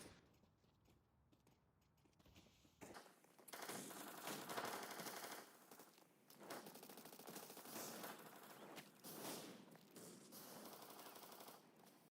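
Gunfire and spray-firing through smoke in Counter-Strike on de_overpass, a sustained dense rattle of automatic shots that cuts in sharply after a few quiet seconds and keeps going in long loud bursts.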